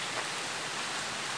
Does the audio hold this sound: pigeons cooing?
no